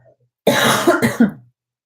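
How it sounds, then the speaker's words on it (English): A single harsh cough burst followed by a couple of shorter rasping coughs from someone recovering from bronchitis, close and loud, with silence around them. "I'm going to cough."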